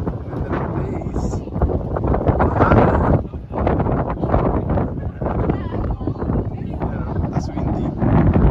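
Strong wind gusts buffet the microphone outdoors at a farm with an ice cream stand, a loud steady rumble throughout, swelling around the middle and again at the end, with people talking underneath.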